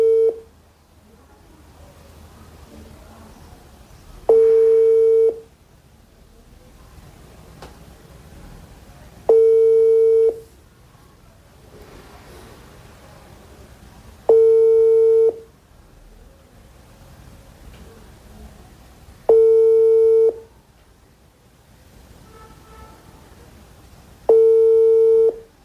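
A telephone busy signal, loud tone bursts repeating about every five seconds, with quiet line noise in the gaps.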